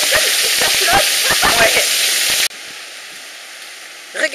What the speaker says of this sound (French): Regardez un petit peu toute l'eau qu'il y a.